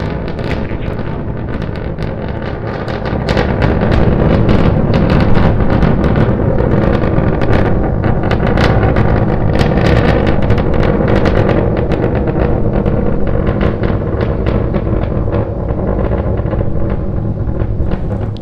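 SpaceX Starship climbing on two engines during a test flight to 10-kilometer altitude, a loud, dense, crackling rumble that holds steady for the whole stretch, harsh and continuous, with no voices over it.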